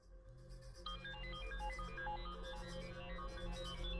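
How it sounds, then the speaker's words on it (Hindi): A mobile phone ringtone plays a bright repeating melody muffled inside a pocket, steady and moderately loud over a low background hum. "किसकी बज रही है? आपकी जेब से आवाज आ रही है बॉस।"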